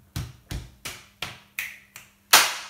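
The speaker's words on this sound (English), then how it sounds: "chest, chest, slap, slap, click, click, chest, chest, slap, slap, click, click, clap." Body percussion pattern: two chest hits, two slaps, two finger clicks, then a louder final clap, crisp, close and evenly spaced with no talking.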